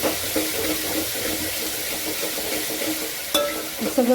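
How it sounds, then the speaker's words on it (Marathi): Steady sizzling of coriander sautéing in hot tempering oil for toor dal, with occasional stirring scrapes and a sharp clink near the end. "कोथिंबीर पण आपण अशी छान परतून घ्यायची फोडणीमध्ये"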